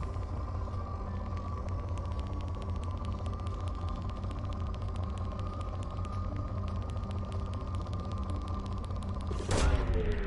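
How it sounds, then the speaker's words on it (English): A probe launches in the Mass Effect 2 video game: a steady, loud ship hum and rumble runs throughout, then a brief sharp whoosh bursts out near the end. "Launching probe."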